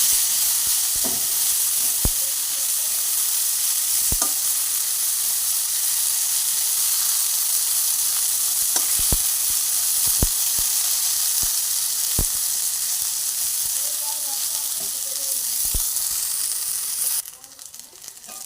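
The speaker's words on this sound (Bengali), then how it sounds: "মিনিট 2 সময় নিয়ে আমি বেগুনটাকে ভেজে নিয়েছি।" Eggplant slices, salted and coated in turmeric, sizzle steadily in hot oil, a loud continuous frying hiss with occasional stirring clicks before it cuts off near the end.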